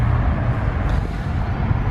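The Milwaukee 8 engine of a 2017 Harley-Davidson Road King (FLHR) rumbles at a steady, loud, low idle throughout, with no clear separate starter crank.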